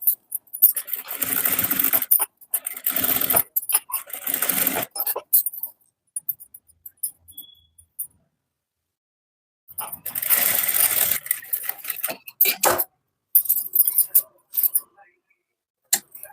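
Domestic sewing machine stitching invisible piping on fabric, running in several loud close bursts separated by pauses, with someone talking in between.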